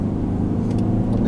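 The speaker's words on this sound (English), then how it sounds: "diesel engine takes off great" A 2012 Mercedes-Benz C220 CDI BlueEFFICIENCY diesel engine pulls hard on a dual carriageway, a steady low drone heard from inside the cabin, brief and loud with no talk.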